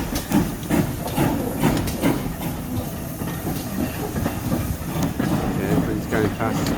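A steam train running near Bodmin gives a steady, close rumble with hiss and rolling clatter that fills the whole stretch, with faint voices mixed in.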